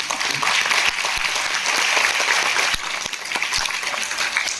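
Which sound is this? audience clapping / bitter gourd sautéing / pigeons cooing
audience clapping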